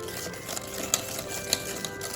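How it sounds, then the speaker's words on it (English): Cookie batter being whisked toward fluffy: a close, continuous rattling churn with a few sharp clinks of the whisk against the bowl, no voices. "So we're going to have to whisk this till it's fluffy."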